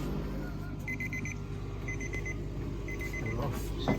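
A Jackson Precision heat press beeps to signal it is done, sounding repeated short bursts of four quick electronic beeps over a steady background hum, with voices talking faintly in the room.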